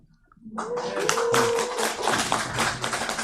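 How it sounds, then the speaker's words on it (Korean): A church congregation breaks into applause to welcome a pastor, starting after a brief quiet moment and then rising into a dense, sustained clatter of many hands. A voice is faintly heard beneath the clapping. "나오실 때 큰 박수로 환영해 주세요"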